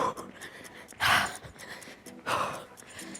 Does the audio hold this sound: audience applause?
no